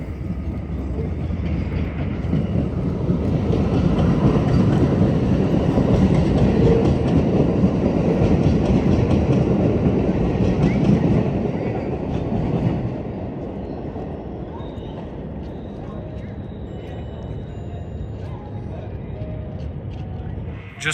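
A DC Metro train passes nearby in a brutalist concrete setting, a loud sustained rumble and rattle that builds, peaks for several seconds, then eases into a steadier fading roar.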